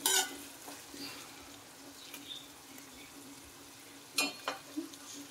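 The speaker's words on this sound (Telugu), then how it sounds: "ఇవి కొంచెం ఫ్రై అయినాయి కదండి" Shark fish pieces fry in a pan with a steady, moderate sizzle, punctuated by scraping stirs and clinks at the start and a cluster of louder clatters toward the end.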